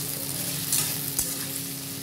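Onion and chopped ginger sautéing in a pan for chilli chicken, giving a steady close sizzle and frying hiss with a couple of brief stirring scrapes, no voices.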